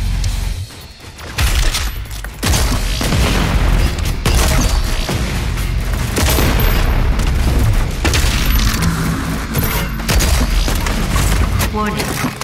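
The BFG 10,000 fires in the video game Doom Eternal, producing heavy booming blasts and rumbling bursts that stay loud for the whole stretch, while a robotic voice and a speaker talk over it.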